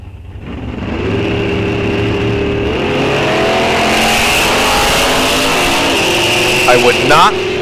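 Drag race cars launch side by side down the strip at Rock Falls Raceway during an ET racing series, engines roaring loudly and steadily with rising pitch, while an announcer talks over the noise throughout.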